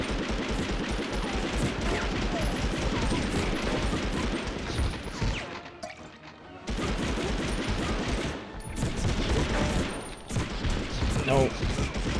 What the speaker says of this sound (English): I'm pretty sure that's supposed to be MG34 or something.